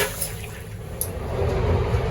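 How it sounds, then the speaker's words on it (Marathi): Vacuum toilet on a Vande Bharat Express train flushes after its button is pressed, a short close-up rush of water into the bowl building into a louder whooshing suction. "इथं बटन प्रेस केल्यानंतर हा जो फ्लश वॉटर आहे तो इथं कमोडमध्ये येतो"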